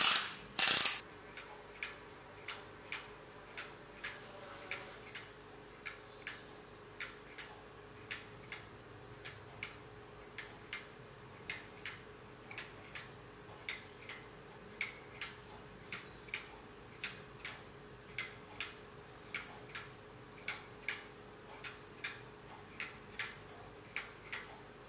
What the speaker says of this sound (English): there's plenty of nice clicky and ticky noises going on, so it sounded like clockwork